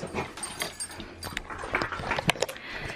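Puppies whimpering and yipping at feeding time, a close cluster of short, high, excited whines and squeaks in uneven bursts.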